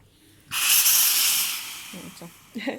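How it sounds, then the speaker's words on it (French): A Calor steam iron releases a loud burst of hissing steam during its anti-scale cleaning cycle, the hiss swelling suddenly then slowly tapering off, with brief soft clicks and rattles near the end. "vous appuyez sur le bouton anti-calque, et il y a toute la vapeur qui va se mettre à sortir"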